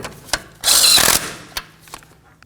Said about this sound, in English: Now that I have it started on, I'm going to bottom it out and then torque it to 25 foot-pounds.